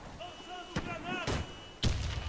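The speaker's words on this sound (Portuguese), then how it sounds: "Lançando granada!" Three sharp, heavy blasts burst out about half a second apart from a grenade in the first-person shooter game Warface, loud and close over faint background game tones.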